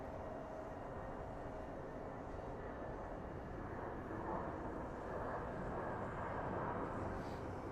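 An Air Canada Rouge airliner coming in to land at Phoenix Sky Harbor airport, a steady distant engine roar and rumble that swells slightly toward the end, heard outdoors with no talking.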